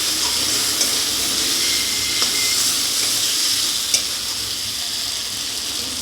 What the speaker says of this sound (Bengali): এবার দিয়ে দেব আলু আর পুঁই ডাঁটা ভেজে রাখা। এরকম মশলার সঙ্গে ভালোভাবে কষিয়ে নেব।